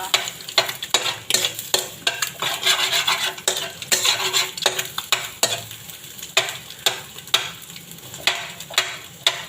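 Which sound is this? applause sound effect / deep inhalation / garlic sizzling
garlic sizzling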